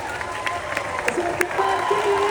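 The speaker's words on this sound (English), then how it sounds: "Big round of applause" Crowd at the Silverstone British Grand Prix gives a brief round of applause mixed with cheering, scattered claps under a talking voice.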